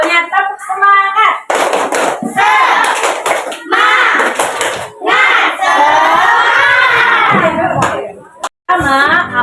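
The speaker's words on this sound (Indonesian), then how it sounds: "Sebelumnya tepuk semangat." A class of fourth-grade children chants in rhythm in a classroom, their voices loud and close, with bursts of group clapping at regular points in the chant.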